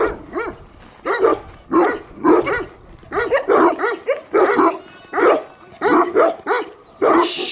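Several dogs, Kangals among them, bark repeatedly and loudly, close by, in quick overlapping bursts with yips mixed in, no talking.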